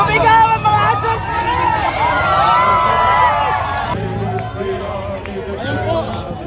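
A large crowd at the El Shaddai Walk of Faith gathering shouts and cheers, with loud overlapping voices, whoops and babble continuing without a break for several seconds.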